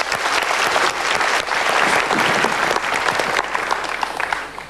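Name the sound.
audience applause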